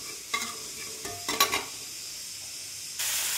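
Whole cumin, cloves, cardamom and cinnamon frying in hot oil, a constant hiss with several quick utensil scrapes and taps early on, then the sizzle swells louder near the end; no talking.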